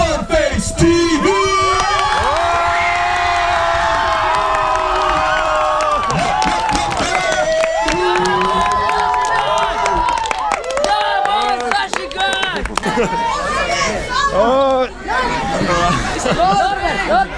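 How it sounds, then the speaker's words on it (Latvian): A live crowd at a YouTubers' fan meet-up claps, cheers and whoops steadily, with loud overlapping chatter and shouts over sustained applause throughout. "ar vērtējiem aplausiem ovācijām sagaidām Fanface TV!"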